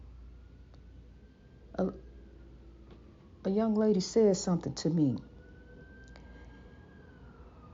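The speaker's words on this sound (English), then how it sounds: "there go the sirens" A faint siren wails in the distance, rising and falling throughout, while someone speaks briefly nearby.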